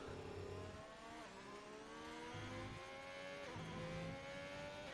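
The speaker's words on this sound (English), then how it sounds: "You can hear the Haas engine." A Haas Formula-style race car engine in a racing game at the Brazil round screams at high revs, pitch climbing through repeated upshifts with brief dips at each gear change, steady and fairly faint.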